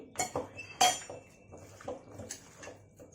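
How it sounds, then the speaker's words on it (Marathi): A metal cooking pot handled on a home kitchen stove before making a spicy chicken curry, a few sharp clanks and clinks of metal, some louder knocks, then softer rattling, close and quiet with no talk. "हे पातेलं गरम करायला ठेवलेलं आहे"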